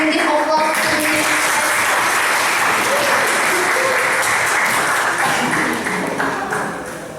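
An audience at a 2014 English debate final in Indonesia applauds the first speaker, a dense, loud, steady clapping that fills the room and begins to fade near the end.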